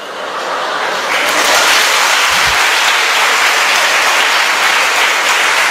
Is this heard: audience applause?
yes